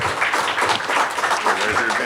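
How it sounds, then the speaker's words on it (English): Luncheon audience at a chamber of commerce gathering applauding, a dense steady wash of many hands clapping close by for about two seconds with no break. "Let's give them a warm round of applause"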